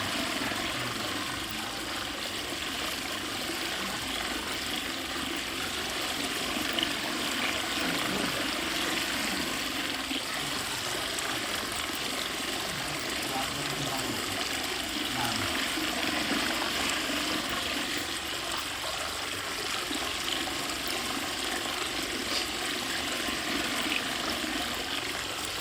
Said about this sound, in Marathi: अजून पाणी पूर्ण बंद नाही झालेलं